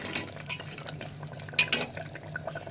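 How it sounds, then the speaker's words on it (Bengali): Meat cooking in a pot in a home kitchen, with wet stirring, bubbling liquid and a few sharp metallic scrapes and clinks of a spoon against the pot, close and fairly quiet. "এই যে মাংস রান্না হচ্ছে এখানে"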